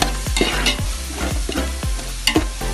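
Garlic being sautéed in a pan for dried fish biryani, a spoon scraping and stirring in a steady rhythm over a continuous close sizzle, with no talking.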